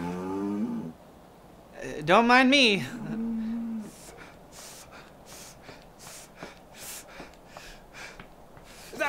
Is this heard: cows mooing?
yes